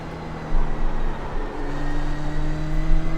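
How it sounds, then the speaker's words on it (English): Race car with cold tires drifting in iRacing, a continuous engine drone with a steady whining tone, rising slightly in loudness after a moment and holding at a constant level with no talking. "The car is drifting."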